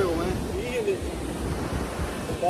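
Surf rolls and washes steadily at a windy California beach, a broad constant roar with wind buffeting the microphone and brief voices faintly in the background.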